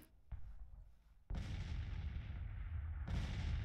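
Artillery batteries in the Grand Tactician Civil War strategy game fire toward the enemy line, one sharp report followed by a louder sustained roar of overlapping booms that rumbles on without a break.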